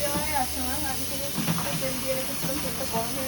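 Mustard oil hisses and spits in a hot pan, a close and continuous sizzling hiss while a voice speaks over it.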